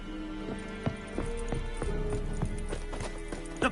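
Hoofbeats of a horse in The Witcher 3 video game, a steady clip-clop gait at moderate loudness, with a few sharper hoof strikes standing out and a faint whinny-like tone in the mix.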